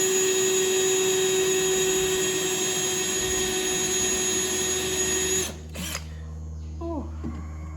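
A vacuum cleaner runs with a loud, steady high-pitched whine as it sucks up debris in a snowmobile shop, then cuts off abruptly near the end, leaving quiet handling noises.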